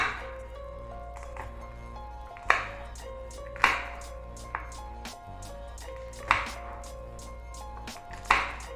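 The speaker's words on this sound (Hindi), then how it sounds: "यहाँ पे सब्ज मिर्चों को भी ऐसे ही मैंने बिल्कुल बारीक काट लेना है।" A knife finely chopping green chillies on a board for pickle, with sharp, separate strikes spaced a second or so apart over a faint steady hum, close and fairly crisp.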